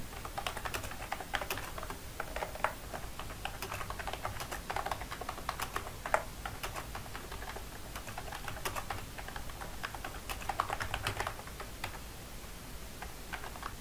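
Someone types a postal address on a computer keyboard, producing a steady run of quick, close key clicks with occasional louder taps throughout and no talking.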